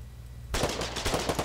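Rapid gunfire in the Foxhole war game starts abruptly after a brief quiet, a dense stream of loud overlapping shots and bursts, like several rifles and a machine gun firing at once.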